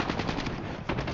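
Rapid bursts of FR .556 rifle fire in a video game, sharp repeated shots in quick succession, loud and close with two distinct volleys and no talk.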